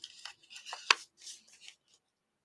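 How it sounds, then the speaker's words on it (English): Small scissors snipping paper dimensionals, a handful of quick crisp cuts close by in an uneven rhythm, with no talk. "get my little scissors here."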